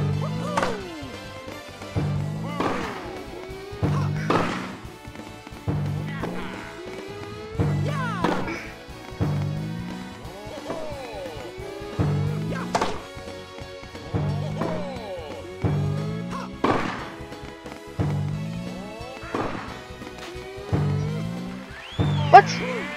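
Tennis shots in Mario Tennis Aces, a steady series of crisp whacking racket hits at regular intervals, each followed by short game effect sounds, with occasional light background music.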